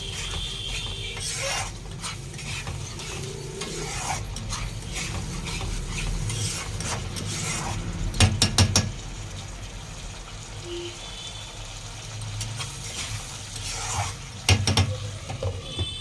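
A spoon works through prawn malai curry with whisked yogurt in a pan, giving a continuous soft sizzle under scraping stirs and a few sharp metallic clinks, close and fairly quiet.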